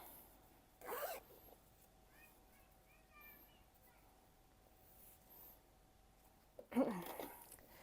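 An invisible zip sliding shut on a sewn fabric bag, two short close scratchy zipping bursts separated by quiet handling, soft and near.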